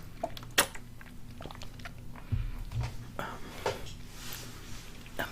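Close, crunchy bites and chewing of Doritos chips, with scattered crisp cracks and bag-rustling sounds in a quiet room.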